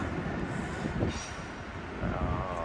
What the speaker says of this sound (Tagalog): Ayun, may train. Ayun, ang haba ng train nila.